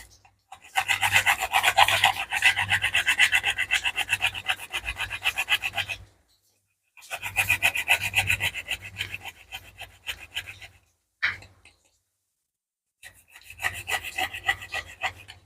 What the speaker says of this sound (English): I'll also grate a little more nutmeg in it.